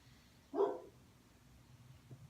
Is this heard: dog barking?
yes